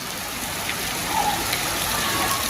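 Steady rain hisses evenly throughout, a soft continuous wash of falling drops with no voices.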